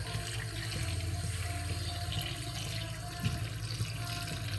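A pitcher of water poured into a cooking pot of sautéed chicken tinola with mussels, a steady faint splashing stream running continuously throughout.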